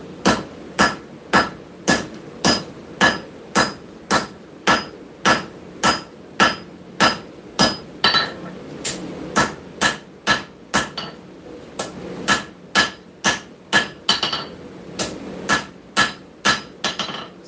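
A power hammer forging steel at a forge, pounding in loud, rapid, evenly spaced metallic blows, about two strikes per second, briefly pausing midway before resuming.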